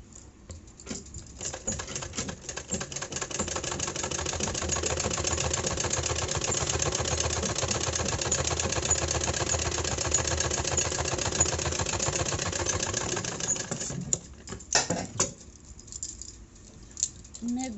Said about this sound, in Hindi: हम अभी आपको सिलाई करके दिखाऊंगे, दिख नहीं रहा है पर देख लीजिएगा। अभी थोड़ा स्टार्ट कर रही हूँ।